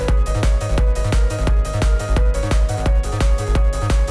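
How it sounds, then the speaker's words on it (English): A busy electronic groove with a bouncy, bubbly synth bassline pulsing in quick repeated notes over steady kicks and hats, loud and continuous. "Really nice bubbly sound."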